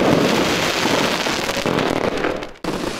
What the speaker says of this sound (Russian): Фейерверк поразил всех своими масштабами и яркими красками.